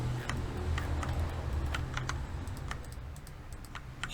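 Key clicks from a computer keyboard entering a short shortcut in Blender 3D, a few sparse taps spread over a few seconds above a steady low hum.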